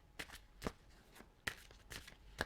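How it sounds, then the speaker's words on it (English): Tarot cards being shuffled by hand in a quiet room, a few separate soft riffles and card slaps spaced unevenly, close and fairly faint, with no talking. "Let's just shuffle these cards a little bit more."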